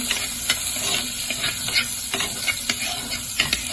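Chicken pieces fry in a pan, giving a steady close hiss of sizzling oil with light stirring clicks and scrapes every second or so, no voices.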